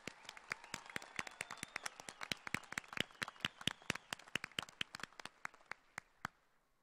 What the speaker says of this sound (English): How about one more round of applause for these graduates?